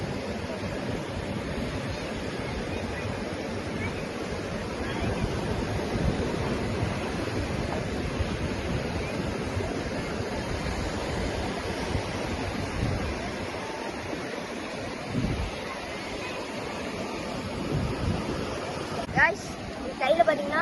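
Sea surf surges steadily at the shore at Snehatheeram beach, a broad continuous wash of breaking waves with wind noise, heard close and fairly loud throughout, with a few brief bumps near the end.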